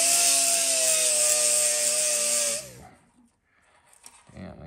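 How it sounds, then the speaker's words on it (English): A grinder cutting away plastic material on an Addams Family Gold pinball machine, a loud steady whine for a few seconds that winds down and stops, followed by faint handling noises. "I think I'm going to take the grinder and just grind a little bit of that plastic material away so it fits a little bit better"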